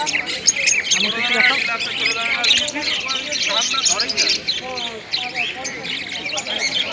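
Caged pet birds at a Kolkata pet market chirp and squawk in a dense, busy chorus of overlapping tweets close by, with murmuring voices underneath.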